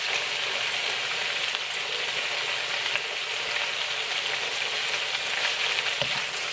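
Raw garlic sizzles in a frying pan with a steady, bright, hissing crackle that carries evenly throughout and has no talk over it.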